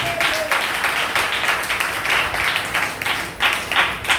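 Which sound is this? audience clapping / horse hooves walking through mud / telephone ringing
audience clapping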